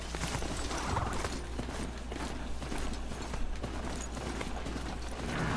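Steady clip-clop of a horse's hooves running in a video game, a dense rhythmic patter at moderate level over a constant low game hum, with no talk.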